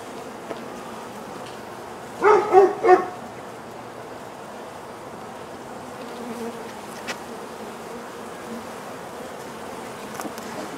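Honeybees buzz around an open hive in a faint, steady drone, with a short burst of dog barks rising briefly above it.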